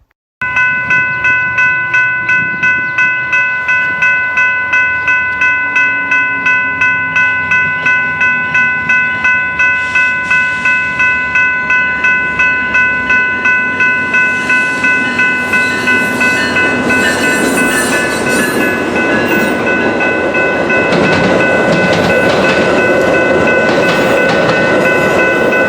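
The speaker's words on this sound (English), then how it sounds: "Guys, we got another Metro coming." Metra commuter train passing at West Chicago, opening with a loud sustained multi-tone horn, then a heavy rolling rumble with rhythmic clickety-clack of wheels growing louder and closer toward the end.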